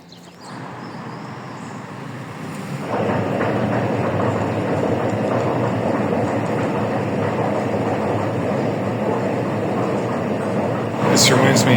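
Baku metro train in Azerbaijan rumbling steadily with a broad roar that swells after a few seconds and holds, a brighter screech near the end, and voices faintly mixed in.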